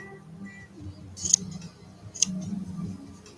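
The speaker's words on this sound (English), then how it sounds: "I've got to be careful with what I'm cutting with these scissors, just because they're obviously just scissors for fur" Fur scissors trim the fur of a medieval-style cat art doll, giving two sharp, close snips separated by about a second over quiet handling noise.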